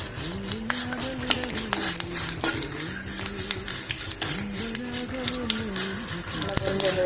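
Steady crackling and sizzling of dried berries frying in hot oil, with a low droning hum and occasional sharp pops throughout.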